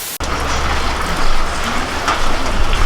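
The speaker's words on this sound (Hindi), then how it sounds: "क्या खतरनाक वाली बारिश हुई है, अभी भी हो ही रही है।" Heavy monsoon rain pours down steadily outdoors, a dense, loud, unbroken hiss with a low rumble underneath, starting abruptly after a brief gap.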